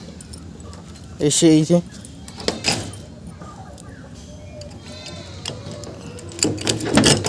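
Metal keys jangle and clink in loud bursts as a padlock is unlocked at a poultry farm shed in the morning, with brief speech and faint background noise between the rattles.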